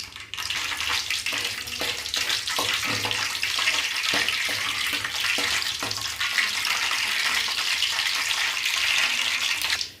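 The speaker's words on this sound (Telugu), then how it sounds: "ముందు వీటిని కొంచెం ఆయిల్లో ఫ్రై చేసుకుందాం" Whole spices sizzle and crackle in hot oil for a chicken curry, a steady dense frying hiss close up with scattered small pops throughout.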